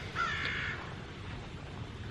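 Crows cawing outdoors, a few harsh calls early on from moderate distance over steady background noise, then fading into ambient hiss.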